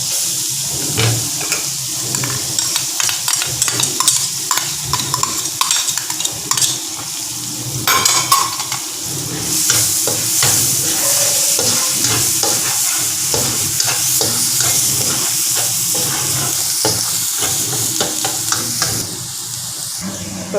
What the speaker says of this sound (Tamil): அப்புறம் பூண்டு போடுவோம்.